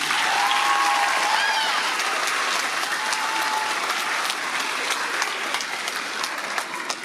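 Steady applause from a sizable school band concert audience, sustained throughout with a brief whistle near the start, gradually tapering slightly toward the end.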